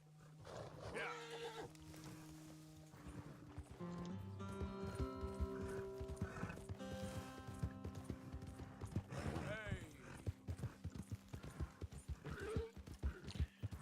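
Horse hooves clip-clopping in the Western video game Red Dead Redemption 2, a steady trotting rhythm heard beneath game music and a brief whinny.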